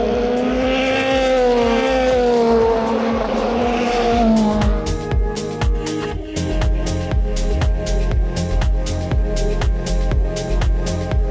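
WeatherTech Sports Car Championship cars at Road Atlanta free practice hop the curbs, engines roaring loud and close with rising and falling pitch, then a run of sharp rhythmic thumps and rattles as tires strike the kerbing.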